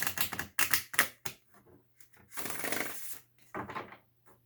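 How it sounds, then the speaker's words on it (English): A tarot card deck being shuffled in bursts, with crisp riffling and slapping of cards in several close, fairly quiet runs separated by short pauses. "I'm sitting here shuffling the deck trying to think of a theme."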